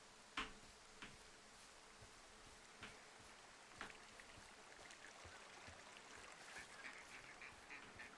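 Ducks quack in a forest setting in the video game Firewatch, a few faint, scattered calls over a steady watery background hiss, with no talking.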